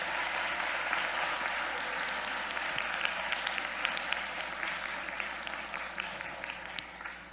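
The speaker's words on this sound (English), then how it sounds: "so can we give her a round of applause, please?" Audience at a youth conference poetry slam applauds, a dense, steady clapping that fills the room throughout and tapers slightly at the end, with no voices above it.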